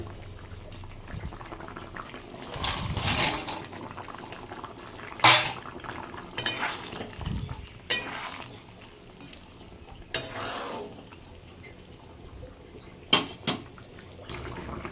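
Tangra fish and fried lentil bori dropped into a boiling curry, a steady bubbling simmer broken by a few louder splashes and soft knocks against the pot, close and moderately loud with no talking.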